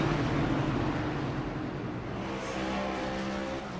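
Race cars at World Wide Technology Raceway rolling behind a pace car, engines droning as a steady, moderately loud rumble with some rising tones, no talk heard.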